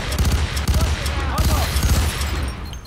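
Gunfire in the shooter game F.E.A.R. 3 rattles off in rapid bursts, loud and close, a dense run of repeated shots with brief gaps across the short stretch.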